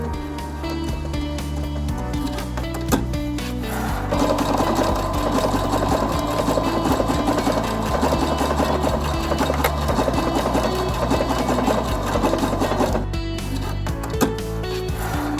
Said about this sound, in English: We start sewing in the arch of the armholes and finish in the same place on the opposite side.